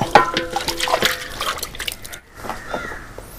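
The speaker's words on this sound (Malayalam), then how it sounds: "ഇപ്പോൾ നമുക്ക് കുറച്ച് വെള്ളം കൂടെ ചേർത്തിട്ട് നമുക്ക് നല്ലപോലെ ഒന്നുകൂടെ കഴുകിയെടുക്കാം." Raw chicken being rinsed in water, with splashing and trickling close by, fairly steady with brief pauses and clinks of handling.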